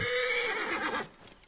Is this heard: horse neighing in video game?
yes